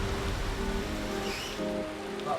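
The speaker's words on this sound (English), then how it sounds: "Torrential rain is flooding the beach and the lifeguard tower." Heavy rain pours steadily onto Bondi beach in a continuous, loud wash of noise that never lets up, with a low, rumbling undertone that may be surf or running water.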